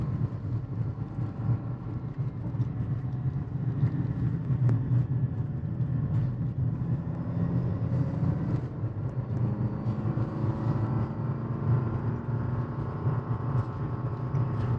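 A 2022 Jeep Grand Cherokee 4xe plug-in hybrid, towing and held in second gear at around 3,500 rpm, gives a steady, loud engine drone. It sits under constant road and wind rumble for the whole stretch, with no talking.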